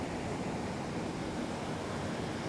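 Ocean waves at Boca Raton beach, Florida, wash in as a steady, loud, continuous roar of surf with wind noise, no voices.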